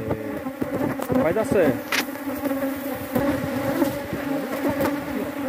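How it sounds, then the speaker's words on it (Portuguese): Angry honeybees swarm and buzz loudly and continuously at close range while a beekeeper transfers them from a bait box to a standard hive, with brief speech over the drone. "As abelhas estão zangadas demais"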